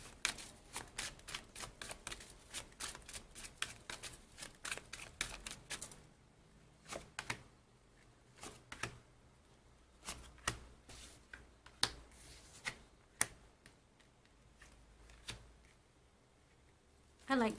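Tarot cards are riffled and shuffled in a rapid run of crisp flicks, then individual cards are drawn with sparse, sharp snaps and slaps, close and fairly quiet.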